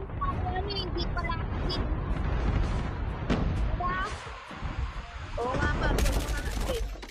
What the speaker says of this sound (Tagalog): Ito na nga po, nagbabarilan.